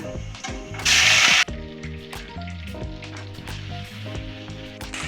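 Ginger garlic paste hits hot oil with tempering spices in a pan for egg korma, letting out a loud hiss for about half a second that settles into quieter sizzling under steady background music.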